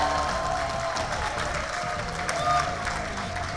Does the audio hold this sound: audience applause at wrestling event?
yes